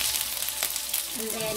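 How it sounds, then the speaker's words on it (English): A red chili drops into hot oil, and a steady, close sizzle of frying crackles throughout, with a faint tonal sound near the end. "To drop in 1 red chili"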